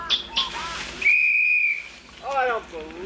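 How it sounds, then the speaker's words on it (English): A single long whistle note played in an outdoor stream setting, held steady for under a second between bursts of excited talk. "Play the whistle again!"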